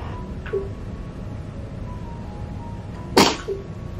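A single sharp sneeze bursts out near the end, loud and close, over a low steady hum with faint background noise.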